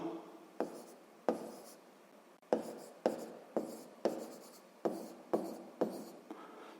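Pen or pencil writing on paper while working a fifth-grade maths exercise, heard as a series of close, distinct scratchy strokes in quick bursts with short pauses between them, alone and without talk.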